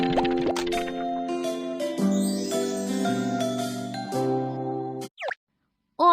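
Cheerful chiming tones and bubbly plopping effects sound as ingredients are mixed in the Baby Panda cooking game, a bright, jingly sequence of notes and drips that ends in a short pop.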